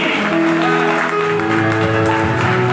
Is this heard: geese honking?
no